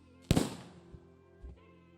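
A single firework bursts sharply in a video game, followed by a brief crackle and a softer pop as it fades over a quiet backdrop.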